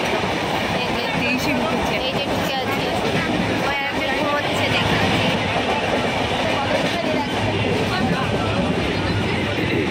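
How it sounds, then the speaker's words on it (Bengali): Passenger train on the Howrah–Bhubaneswar line running steadily, a dense continuous rumble and rattle of wheels and carriage filling the whole stretch, heard from inside the coach with faint background voices. "সম্ভবত খড়গপুর স্টেশনে এসে ট্রেনটা দাঁড়িয়েছে।"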